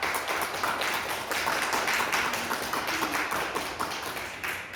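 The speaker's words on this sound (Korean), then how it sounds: "김용필 장로님에게 박수 좀 한번 쳐줄까요?" A church congregation applauds an elder during a Sunday service, a steady wash of many hands clapping at moderate distance, sustained evenly for several seconds with no talk over it.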